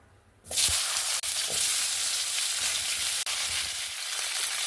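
Cauliflower florets and potatoes dropped into hot oil left from frying rohu fish, a sudden loud sizzle that surges after a quiet moment and keeps hissing steadily with faint crackles.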